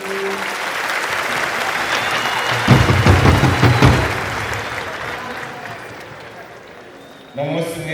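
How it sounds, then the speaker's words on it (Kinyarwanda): Stadium crowd at a Burundian gathering applauds in a broad sustained wash that swells to a louder burst midway, then fades before a voice speaks at the end. "Dukomera amashyi Imana yacu."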